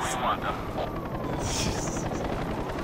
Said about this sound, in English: Heli coming in, heli coming in!